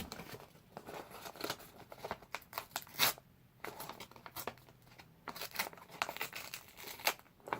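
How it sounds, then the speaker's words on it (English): An item being slid into a paper envelope, close up: irregular crinkling, rustling and tearing-like paper sounds in short bursts with brief pauses, quiet and near. "Now I'm going to put this in an envelope."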